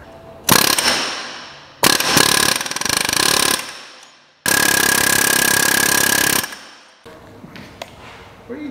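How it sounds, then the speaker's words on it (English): Loud pneumatic air hammer rattling in three long bursts against the metal of a locked-up MK7 Golf R transmission, with short pauses between and a fainter burst near the end. "I am gonna go with the air hammer option pretty soon here"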